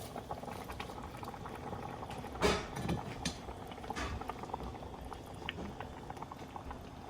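Rice simmers uncovered in lamb broth for pulao, a quiet, steady bubbling boil with a few louder burbles and splashes, heard close up with no speech.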